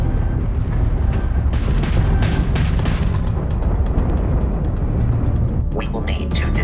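An enemy Crimson Fleet ship opens fire in Starfield space combat, with a dense, loud rumble of booming weapon blasts and engine roar that stays continuous throughout, sharp bursts and pops cutting through.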